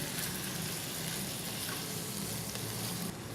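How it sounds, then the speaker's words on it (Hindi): Yogurt hitting hot minced keema in a pan, a steady loud sizzle and frying crackle running throughout, with faint stirring scrapes and no voices. "दही ऐड करके इसको फ़ौरन मिक्स करें।"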